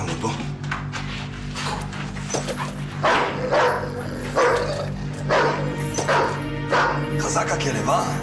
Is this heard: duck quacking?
no